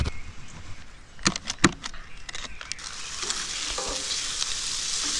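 Smashed hamburger patties cook on a griddle, starting with a few sharp scraping and tapping hits of a spatula, then settling into a loud, steady sizzle that builds over the final seconds.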